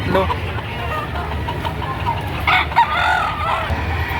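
Roosters crow and chickens cluck amid a busy outdoor livestock auction market in Padre Garcia, Batangas, Philippines, with an engine idling and people talking in the background.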